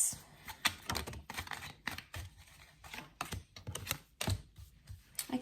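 Tarot cards are shuffled and pulled close by, making soft, quick riffling taps and snaps in irregular bursts. The sound stays quiet, and no one speaks.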